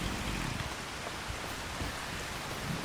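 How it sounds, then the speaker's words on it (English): Rain pours down in Farming Simulator 25, a constant, dense hiss of falling drops that stays even throughout, with no voices. "It's raining again."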